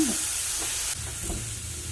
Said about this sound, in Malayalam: ഇനി ഇതിലേക്ക് ഒരു തക്കാളി അരച്ച് ഞാൻ ഒഴിച്ചു കൊടുക്കുന്നുണ്ട്